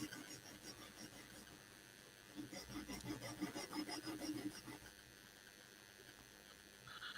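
A glue-covered blade is cleaned and sharpened with quiet, repeated rasping strokes that swell in the middle and then fade, close by with no talking.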